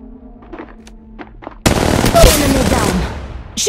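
Gunfire in the Apex Legends video game, a sudden loud sustained burst of rapid automatic shots after a quieter stretch of game sounds, continuing dense and close to the end.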